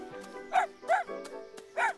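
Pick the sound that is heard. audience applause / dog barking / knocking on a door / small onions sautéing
dog barking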